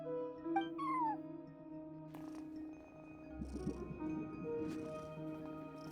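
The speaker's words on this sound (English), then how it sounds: "cat watching over the front desk. Excuse meow?" A cat meows at a front desk inside a video game, short rising and falling calls over steady background music and ambience, with a soft purr-like texture in the middle.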